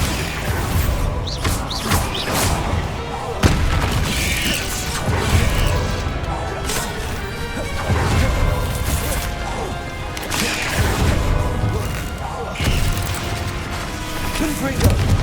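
Bombarda spell blasts in the video game Hogwarts Legacy land as repeated heavy crashes and booms, spaced every couple of seconds amid clattering, creaking debris and busy combat noise throughout.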